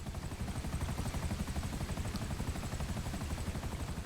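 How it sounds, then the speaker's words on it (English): A helicopter in GTA Online hovers low over water, its rotor beating in a fast, steady chop that stays loud and continuous throughout. "if I very, very carefully just lightly tap the top of the water with this bottom of this helicopter"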